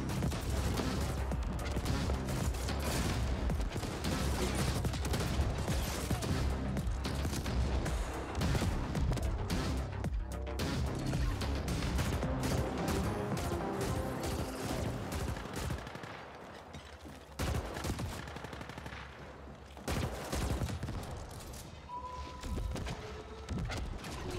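Enemy machine guns in the sci-fi shooter The Ascent fire in dense, rapid bursts, with loud sustained volleys and crashing booms layered through the whole stretch and no talking.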